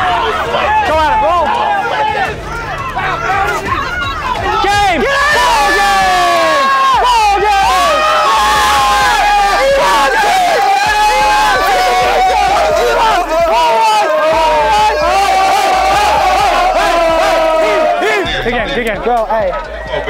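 A packed crowd at an outdoor park basketball game shouts and cheers loudly and without pause, with many overlapping voices, whoops and yells close by and filling the whole stretch.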